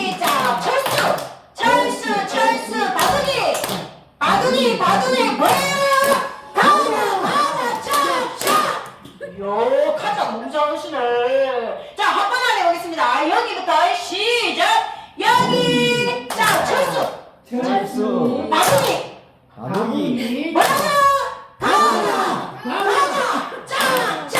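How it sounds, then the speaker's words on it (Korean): Hands clap in a rhythmic group exercise for dementia prevention, with bursts of clapping between and under voices chanting simple words in a sing-song call-and-response pattern. "박수 한번 치시고, 시작!"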